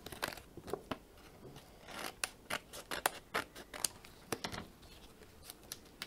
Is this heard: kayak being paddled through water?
no